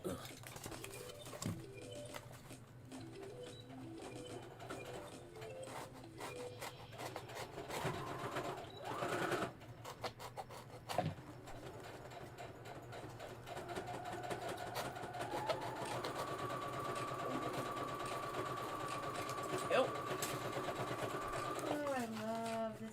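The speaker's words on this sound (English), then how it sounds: "I'm pretty sure they can all hear how fast my sewing machine's going." A sewing machine whirs in rapid bursts that speed up into a fast, continuous run, with some clattering and handling noises in between.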